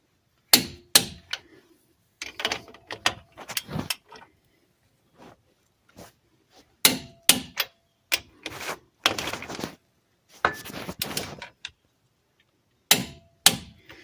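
Click torque wrench tightening axle bolts on a 1998 Ram 1500 truck during U-joint and axle seal work: sharp metallic clicks and clanks in irregular bursts, close and fairly faint, with quiet gaps between.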